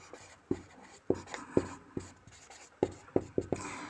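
A pen writing a definition by hand on paper makes a series of close, quiet scratchy strokes with sharp taps at irregular intervals, and nobody speaks.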